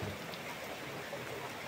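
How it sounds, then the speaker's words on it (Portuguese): Rain falls steadily in the Caculé region of Bahia, a soft, even hiss of drops on surfaces that stays faint and unbroken throughout, with no voices. "chovendo agora."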